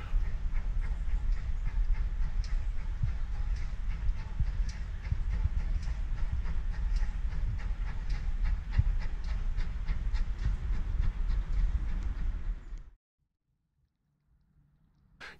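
A small model railway train rattles along continuously with rapid clicking and rumbling, fairly close, then cuts off abruptly into near silence near the end.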